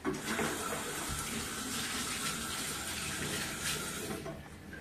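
Tap water runs steadily from a faucet in an old flat awaiting renovation, a continuous splashing rush that stays fairly loud and even throughout, fading slightly at the end.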